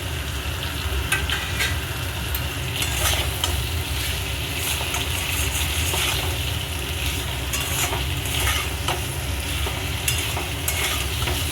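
Potatoes and pointed gourd with spices sauté in a pan, a steady close sizzle of frying broken by scraping stirs.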